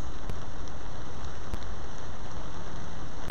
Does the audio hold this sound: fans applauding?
no